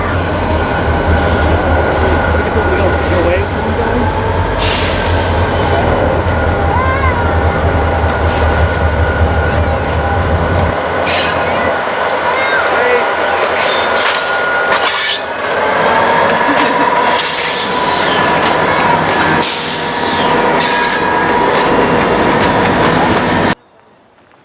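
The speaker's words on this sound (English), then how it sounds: "have the Wheeling and Lake Erie train pass by" A Wheeling and Lake Erie train rolls past close by, a loud continuous rumble of cars with bursts of high wheel squeal and rail clatter that stops abruptly at the end.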